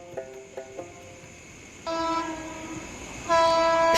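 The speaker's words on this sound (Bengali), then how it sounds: "ট্রেনের হুইসেল শোনা যাচ্ছে" A cartoon train whistle blows in two sustained bursts, the second louder, after a few short faint toots at the start, with a rumbling train noise beneath and no talking.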